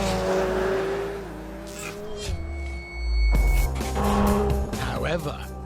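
A McLaren 720S sports car accelerates hard, its engine building into a loud, close roar with a sharp rise midway, while a voice talks over it.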